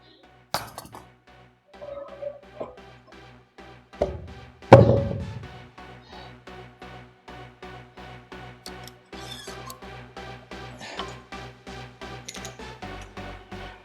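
Metal weight plates clanking on a deadlift barbell as it is loaded, with a few sharp loud knocks early and then a long run of quick, rhythmic clinks at close range.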